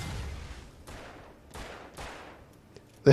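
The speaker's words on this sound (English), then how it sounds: "I shoot a barrel, I shoot the wall." Gunshots in the video game Alan Wake, four evenly spaced shots with decaying tails, moderately loud, ending with a sharp louder impact.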